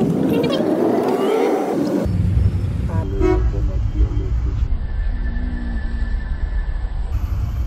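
Busy street traffic with car horns tooting repeatedly over engine rumble and road noise, someone talking close by throughout.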